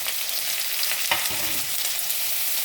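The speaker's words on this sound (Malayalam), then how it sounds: "ഇനി ഇതിലേക്ക് സവാള ഇതെല്ലാം അരിഞ്ഞത് ചേർത്ത് കൊടുക്കാം." Chopped onions frying in a pan for rava upma, a steady close hiss of sizzling oil with a brief stir partway through.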